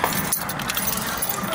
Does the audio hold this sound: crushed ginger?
no